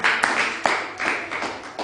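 A church congregation claps for Jesus at a sermon, a loose run of sharp hand claps with a few louder, distinct smacks standing out, close and without speech.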